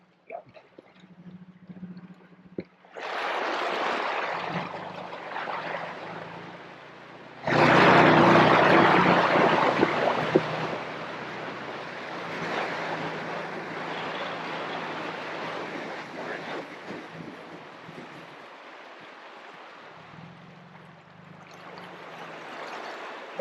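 A vehicle fords a swollen river, churning water into a loud, broad rush that surges suddenly and then holds steady, with an engine hum underneath and quieter stretches at the start and end.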